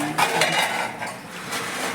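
Dishes, pots and cutlery clinking and scraping while last night's dishes are washed at home, a steady run of close metallic clatter with brief louder knocks, no voices.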